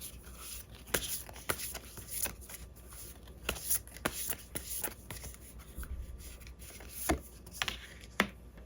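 Tarot cards being shuffled and drawn, giving a run of crisp riffling and flicking bursts with soft slaps at irregular intervals, close and fairly quiet, with no talk.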